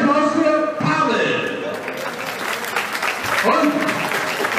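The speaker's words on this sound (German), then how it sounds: "Euer Applaus für Pavel" An audience at a boxing event applauds a boxer in a dense, loud burst of clapping and crowd noise that holds steady throughout, with a voice announcing over it.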